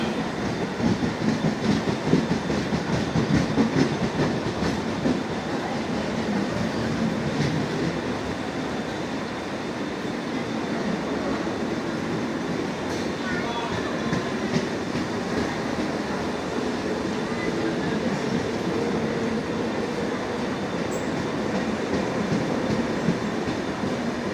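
A local train rumbles steadily at a station platform with a broad, continuous roar for the whole stretch, wheels and carriages droning close by without any talk.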